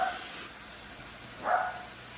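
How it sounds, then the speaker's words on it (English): Vegetable oil cooking spray hisses onto a 9-inch pie plate in two short bursts, the first at the start and a second about a second later. Each burst is close, brief and airy, with quiet room tone between them. "I use the Great Value vegetable oil spray"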